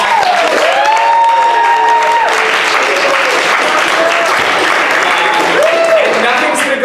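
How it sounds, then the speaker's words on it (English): Loud, sustained applause from a theater audience at a murder mystery play fills the whole stretch, with scattered cheers and voices mixed in. "Everyone clap for that"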